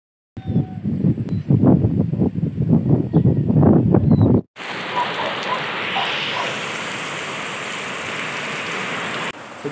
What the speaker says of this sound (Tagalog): ganito kalakas po ngayon ng ulan sa Bicol